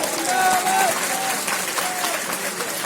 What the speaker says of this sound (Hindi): पिपरे की ताली सुनाई दो मुझे भाइयों बहनों